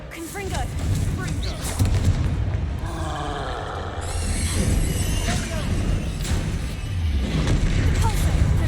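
In the Hogwarts Legacy video game, Confringo explosion spells burst amid rapid spell-casting combat, with booming blasts and crackling effects layered under a voice calling out spell names.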